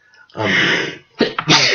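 A single loud, drawn-out sneeze up close, followed by a quick sniffly breath and a short second burst.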